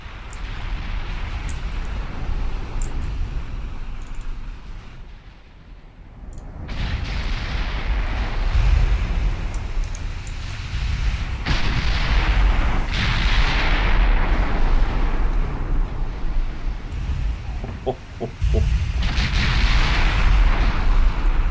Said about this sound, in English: Oh, I love 15-inch guns.